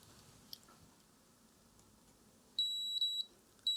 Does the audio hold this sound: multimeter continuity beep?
yes